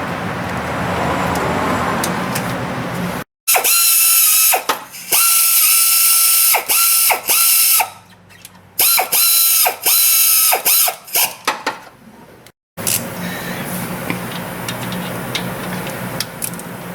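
Ratchet snugging two bolts during timing belt work on a Honda J35 3.5 V6 engine, with loud, close, rapid clicking in repeated bursts broken by short gaps and a steady background hum before and after.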